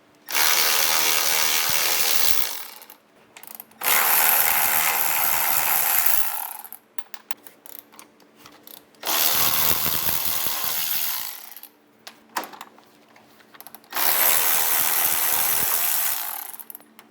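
A ratchet loosens the transmission mount bolts on a VW Beetle in four long bursts of rapid clicking, each a few seconds long, close and loud, with short pauses between.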